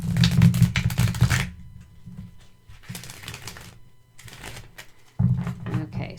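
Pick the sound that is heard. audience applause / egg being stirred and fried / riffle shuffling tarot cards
riffle shuffling tarot cards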